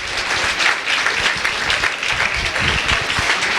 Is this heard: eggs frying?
no